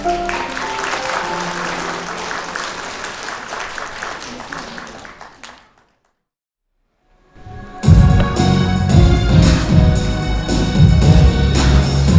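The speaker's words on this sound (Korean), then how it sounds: "하객 여러분께서는 두 사람에게 큰 박수 축하해 주시기 바랍니다." A hall fills with steady clapping from wedding guests at a wedding ceremony in a convention ballroom, breaks into a brief silence, then resumes louder and fuller with festive background sound.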